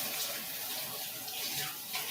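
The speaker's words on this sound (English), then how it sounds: "Wash my hands." Tap water pours steadily into a sink as hands are washed, a continuous broadband hiss and splash, close and even, with no talk.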